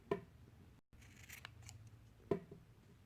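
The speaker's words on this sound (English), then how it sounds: "I usually like to do a nice trim job on my pom-poms just because I like a really neat pom-pom." Scissors snipping around a yarn pom-pom, two crisp close cuts spaced a couple of seconds apart in a quiet room.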